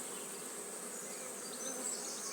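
A swarm of bees in a WBC hive gives a continuous, even buzzing hum that holds steady throughout at a moderate distance.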